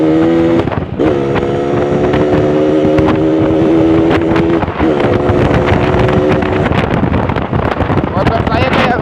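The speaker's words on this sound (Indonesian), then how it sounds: "motor saya kayak nggak enak banget, ngeden suaranya" A motorcycle engine sounds strained during a night ride, a sustained droning tone that shifts pitch under heavy wind buffeting, with sporadic clicks and rattles throughout.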